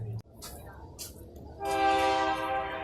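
A small train sounds its horn outdoors, a faint, sustained tonal blast that swells after a soft rumble of the passing train, fairly distant and heard alone.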